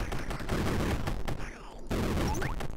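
Rapid gunfire in the video game Dungeon Souls, a dense, loud barrage of overlapping shots with a brief lull near the middle before the shooting resumes, with game effects chiming over it.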